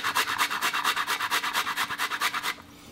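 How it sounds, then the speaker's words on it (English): Fresh tomatoes are rubbed quickly against a grater straight into a pan for a beef stew, a close, steady rhythmic scraping of about twenty fast strokes that stops abruptly. "And now we're gonna grate the tomatoes right into the pan."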